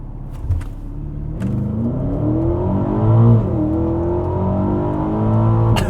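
A 2021 Aston Martin DBX with a 4-liter twin-turbo V8 launches hard from a stop using brake boost, its loud engine note climbing steadily through rising revs with a brief dip at a gear change.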